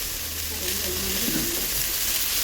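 Chili fries in coconut oil with a constant, fairly loud hiss and sizzle that runs unbroken and close up.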